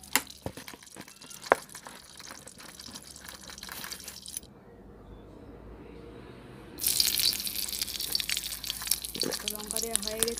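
A single fresh green chili dropped into hot oil in a wok sets off a sudden, loud, crackling sizzle partway through. It follows a quieter stretch, and a voice talks before and over it.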